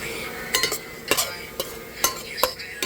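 Mushrooms are stirred in a pan with onion and garlic, with a soft continuous sizzle under sharp scraping and clinking strokes of a utensil against the pan at irregular intervals, close up.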